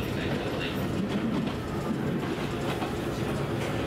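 Steady rumble of a train running on rails, heard from inside a carriage on a Japanese line near Koide station, a continuous low drone with faint rhythmic rattle throughout.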